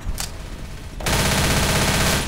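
Gunfire in the zombie shooter game Left 4 Dead: a brief burst of shots, then a loud, sustained automatic rattle that runs without a break to the end, close and dense.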